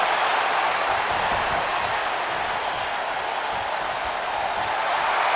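A capacity arena crowd in the video game WWE 2K25 roars and cheers in a dense, continuous wash of noise that stays loud and even throughout, with no talk over it.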